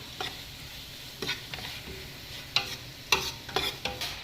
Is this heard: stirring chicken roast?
yes